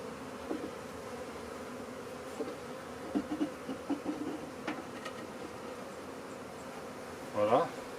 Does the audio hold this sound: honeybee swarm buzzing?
yes